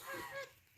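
Geese on a farm give a couple of faint, nasal honks in quick succession, heard at a distance and fading out at the end.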